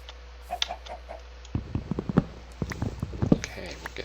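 Chicken clucking in the Minecraft video game, a few short soft calls that come and go, faint, mixed in with light game sounds and other brief blips.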